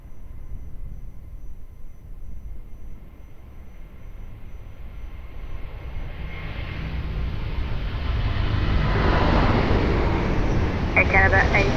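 An Airbus A330 rolls down the runway at Lisbon Airport, a broad engine roar swelling steadily from a distant rumble to a loud, close thunder over the final seconds.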